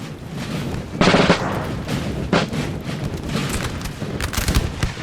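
Gunfire rattles toward General Soult in Napoleon Total War's Battle of Roncesvalles, 1813, with sharp crackling volleys and booms over a constant battlefield din, several bursts at irregular intervals.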